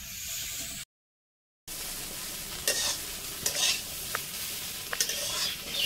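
Sliced potatoes for aloo bhaja sizzle steadily in a pan, with a few sharp scrapes and stirring clicks cutting through the continuous hiss, broken once by a brief dropout to silence.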